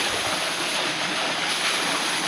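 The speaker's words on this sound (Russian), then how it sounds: "Водопад." A steady, broad rush of falling water from a waterfall at Miami Zoo, Florida, fairly faint and unbroken, with no voices over it.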